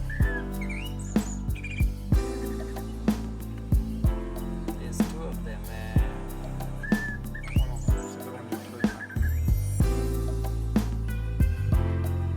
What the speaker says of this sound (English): we now came across a pair of African bare-eyed thrush, our first of this species